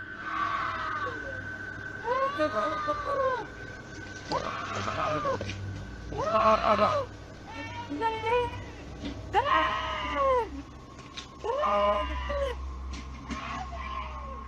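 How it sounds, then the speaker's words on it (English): A woman screams in a recorded video, letting out a series of long, wavering, high-pitched wailing cries about every second or two. They sound somewhat distant over a steady low background rumble. "You can hear a woman scream."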